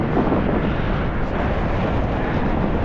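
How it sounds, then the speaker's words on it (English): Strong onshore wind, around 20 to 25 mph, blowing straight in on a Bristol Channel beach, a loud, steady roar buffeting the microphone with no letup. "The wind is, as anticipated, straight in, probably 20-25 mile an hour."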